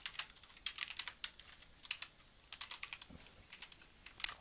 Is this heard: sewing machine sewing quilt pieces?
no